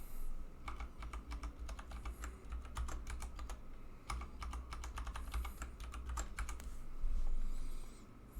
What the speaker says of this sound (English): here we have to type the directory services restore mode DSRM password